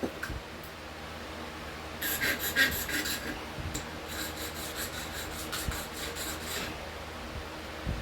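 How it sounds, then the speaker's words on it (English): A hand file rasps against the point of a whitetail deer bone fishing point, bursts of rough scraping strokes in two runs separated by a short pause, close and fairly loud. "I'm filing the point."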